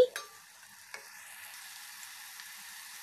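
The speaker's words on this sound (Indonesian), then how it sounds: "Lalu ditumis sampai airnya hampir habis atau aromanya sedap." Tempe sautéing in oil in a frying pan gives a steady, quiet sizzle, with a few light scraping clicks of stirring near the start.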